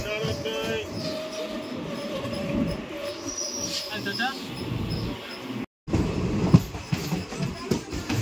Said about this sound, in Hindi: मेन लाइन में मालगाड़ी खड़ी हुई है, इसीलिए हमारी ट्रेन को प्लेटफॉर्म नंबर 1 से स्लोली स्किप किया जा रहा है।